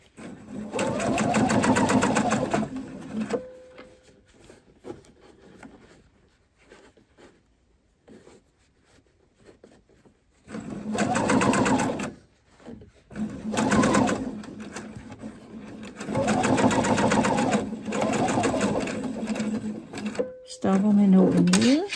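A sewing machine stitches a sleeve placket in short bursts of rapid, steady whirring separated by pauses, with a person talking quietly between runs.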